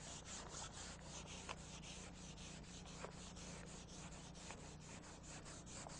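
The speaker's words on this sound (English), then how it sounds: "I'm going to go with finer grit sandpaper now to help feather edge out the body filler" Fine-grit sandpaper rubbed over cured body filler on metal, feathering the edges; a steady, close scratchy sanding with regular back-and-forth strokes, continuous and alone with no talking.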